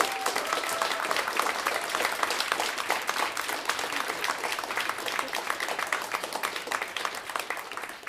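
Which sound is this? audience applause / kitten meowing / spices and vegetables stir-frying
audience applause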